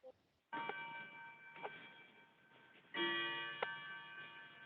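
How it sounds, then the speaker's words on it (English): A home clock chimes the hour at five o'clock, resonant tonal strikes with ringing overtones, two clear chime onsets with sustained decay, moderately loud indoors. "That was our clock telling us it was 5"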